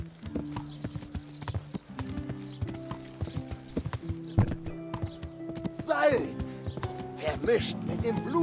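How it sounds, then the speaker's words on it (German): Horse galloping in the medieval video game Kingdom Come: Deliverance: rapid, rhythmic hoofbeats drum steadily throughout, joined by a brief whinny and background game sounds, with voices talking over the ride. "Also sind wir mit dem Pferd schnell hingeritten."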